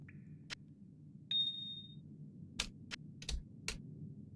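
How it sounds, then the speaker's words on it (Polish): Sparse computer mouse and keyboard clicks during Diablo 2 gameplay: a handful of faint, sharp, irregular clicks over a low steady hum, with a short electronic game tone in between. "mam nadzieję, że nie słychać było myszki, klawiatury"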